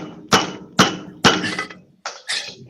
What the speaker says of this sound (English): This is my hammer.